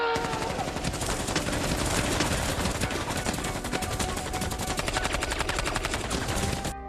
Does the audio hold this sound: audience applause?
no